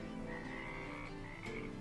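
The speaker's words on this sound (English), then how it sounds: "if you listen closely you can hear the frogs" Frogs croaking at a garden pond in the Farming Simulator 25 video game, a quiet chorus of overlapping croaks running continuously under faint ambient background.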